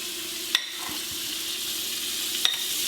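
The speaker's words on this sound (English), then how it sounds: "I really like frying this with some butter and vegetable oil mixture" Egg rolls made with lavash and cheese fry in a butter and vegetable oil mixture, giving a steady close sizzle broken by two sharp clicks, with no talking.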